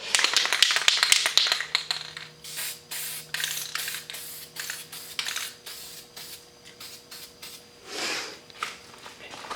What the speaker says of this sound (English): just going to shake your can up and just kind of fog it over the